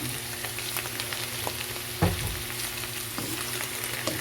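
Chicken fries with mushrooms in a pan, a dense, continuous close sizzle under a low steady hum, with a thud from stirring midway and a few lighter scrapes, no voices.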